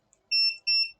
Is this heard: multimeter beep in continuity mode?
yes